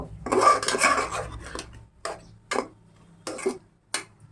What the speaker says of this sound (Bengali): এখন আমি একটু নাড়া দিয়ে দিব।